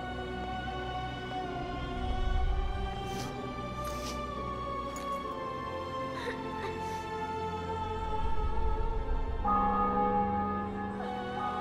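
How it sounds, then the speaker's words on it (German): Church bells tolling in The Witcher 2 game, sustained metallic ringing tones with swelling strikes every few seconds, a fresh bell entering near the end, resonant and moderately loud without speech. "Glocken."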